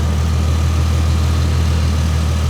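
A V6 engine idles under the raised hood of a vehicle at an auction yard, its steady low rumble and vibration continuing loud and even throughout.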